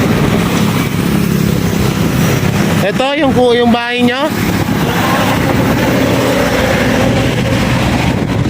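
Steady engine drone running outdoors through the whole stretch, loud and continuous, with a short burst of talk partway through.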